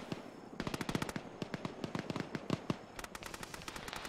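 Rapid automatic gunfire rattles in the Arma military game, long bursts of sharp cracking shots in quick succession with brief pauses, moderately distant and fairly quiet.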